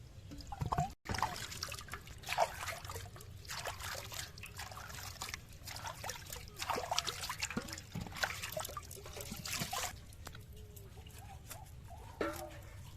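Freshly cut bamboo tubes being washed and shaken in water, giving soft trickling, dribbling and sloshing sounds with scattered drips and light knocks, fairly quiet and close throughout.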